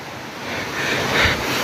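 A river stream rushes steadily in a broad roar at a river crossing near a Bogor waterfall, loud and close, with some wind buffeting the microphone and no talking.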